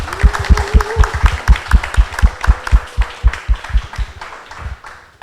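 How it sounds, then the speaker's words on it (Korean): An audience at a live public recording of a baseball talk show claps together in a steady, even rhythm of sharp, loud beats that carries on for several seconds before it thins out. "여러분의 힘찬 박수와 함성으로 시작하도록 하겠습니다"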